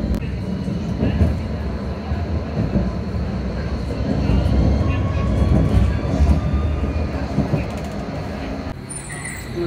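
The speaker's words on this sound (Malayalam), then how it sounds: "ഇതാണ് ട്രാം പോയി." Tram departing a street stop in Berlin at night, a loud steady rolling rumble that swells and then slowly fades as it moves away.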